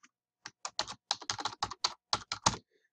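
Quick typing on a computer keyboard as a student types spelling answers, about a dozen crisp key clicks in uneven bursts, close and clear with no talking.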